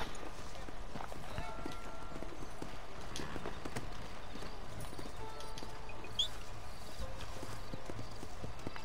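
Steady rhythmic hoofbeats of a horse galloping in Red Dead Redemption, continuous and fairly close, with faint background game ambience and occasional low voices.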